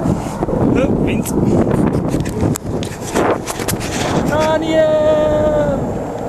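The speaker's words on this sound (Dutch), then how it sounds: "Oh, wind." Wind roaring across the microphone while cycling up the Cormet de Roselend mountain pass, a steady broadband rush with gusts throughout, and people talking over it.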